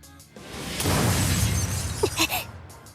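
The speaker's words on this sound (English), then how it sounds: "causing the glass next to Noah to shatter into pieces" Glass shattering into pieces as a visual novel sound effect from 9-nine-, a loud close crash with dense scattering shards and a few bright tinkling fragments trailing off.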